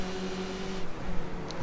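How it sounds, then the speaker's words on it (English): A Skip Barber race car at Snetterton circuit accelerating past a marker, heard as a steady, distant engine drone with a slight swell partway through. "if you listen to his engine note, he is still accelerating past that marker"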